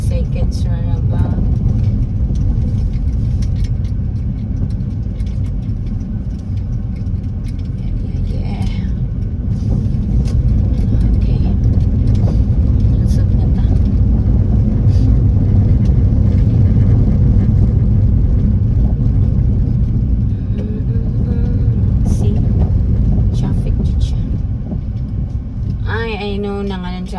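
Road traffic with cars passing, a steady loud low rumble of engines and tyres heard from inside or beside a vehicle, with people talking quietly over it throughout.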